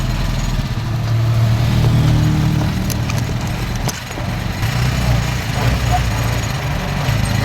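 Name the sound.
motorcycle engine straining uphill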